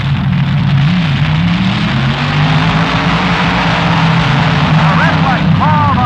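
A top gas dragster at the 1967 NHRA US Nationals, a Ford against a Chrysler, launches and streaks away with a loud, sustained engine roar and a rising drone across the whole stretch, while a voice talks over it.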